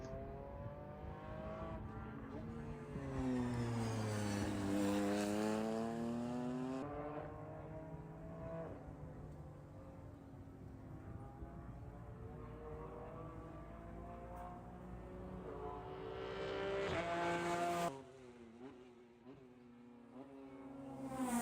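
Race cars lapping Thunderhill in an endurance race, including a Mercedes and a Ligier: several engines rise and fall in pitch through gear changes, loud and close, with one car screaming past before the sound drops away abruptly.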